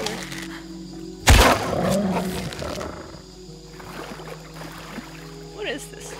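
A wild animal lets out a sudden loud roar in the jungle world of Shadow of the Tomb Raider, one broad burst followed by a rumbling tail, with soft ambient noise and faint talk continuing afterward.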